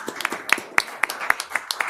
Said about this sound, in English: we can give you an applause